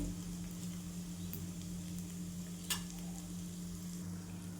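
Onions and cumin fry in a pan, giving a steady, fairly quiet sizzle with faint crackles and one brief stir-like scrape partway through.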